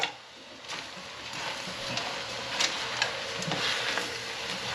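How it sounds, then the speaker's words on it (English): Sliced peppers and onions stirred in a hot pan for BBQ pasta, a soft continuous sizzle with scraping and light clicks from the utensil, no voices. "I'm going to put them in, and then I'm going to stir it up"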